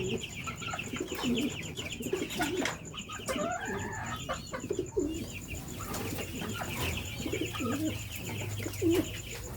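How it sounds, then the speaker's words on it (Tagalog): Racing pigeons coo and cluck steadily nearby in a loft during a derby season, soft repeated low calls overlapping with rustling and other bird chirps throughout. "Ito, kukunin natin mga kalapatids."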